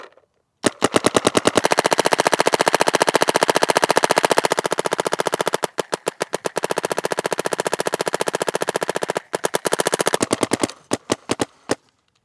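A Planet Eclipse Etha 3 paintball marker fires in rapid full-auto bursts, a dense, loud, machine-gun-like stream of pops running for several seconds, with brief pauses and a few final scattered shots.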